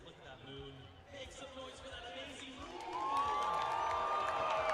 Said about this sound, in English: We're having a cheer for the moon now